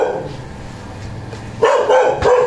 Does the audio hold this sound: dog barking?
yes